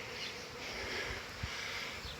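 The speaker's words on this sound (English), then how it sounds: "there's freaking bees all over me" A swarm of honey bees buzzes in the air around a tree, a dense, continuous hum of many insects close by, with individual bees whining past now and then.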